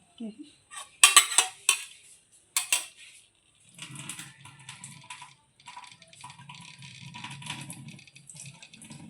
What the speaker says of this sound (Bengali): এবার জলটা ঝরিয়ে নেব।